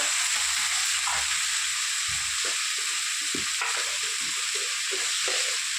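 Cucumber and dried fish curry being stirred in a hot pan, a steady sizzle of frying under repeated scraping strokes of a spoon against the pan, close by and without any voices.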